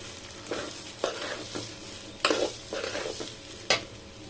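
Ingredients for bhuna khichuri fry in a pan with a low background sizzle, broken by several loud scraping strokes of a spatula stirring at irregular intervals.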